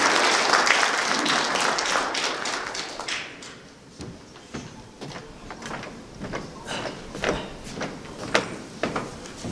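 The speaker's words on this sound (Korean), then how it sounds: "박수로 맞이해 주시기 바랍니다." Applause from attendees at a memorial ceremony and commemorative society launch greets a speaker walking up, starting as full clapping and tapering into scattered, uneven claps with occasional sharp knocks.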